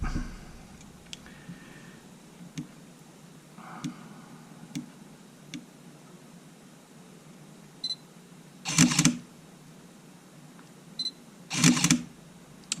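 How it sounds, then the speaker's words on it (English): A Sony A7R shutter fires with faint clicks and ticks, then two louder harsh bursts near the end, heard close in a quiet room with no talking. "The shutter sounds pretty nasty, but it's taking photos."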